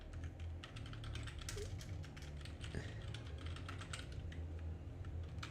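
Fingers type steadily on a computer keyboard, producing a quick, irregular run of light clicking keystrokes that continues for several seconds against a low background hum.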